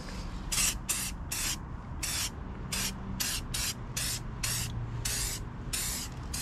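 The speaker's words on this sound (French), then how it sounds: "ce qui est bien, c'est que c'est un spray. Donc on va en mettre juste sur la partie de droite" A C&C plastic renovator spray sprays onto car plastic trim in about a dozen short, crisp hissing bursts in quick succession, close and fairly loud with no talking.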